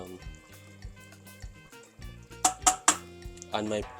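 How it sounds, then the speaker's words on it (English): Beans and other ingredients being mixed in a pot, with wet clinks and scrapes of a utensil against the cookware, which grow louder and sharper toward the end. Low background sounds run underneath. "I'm just mixing the beans and"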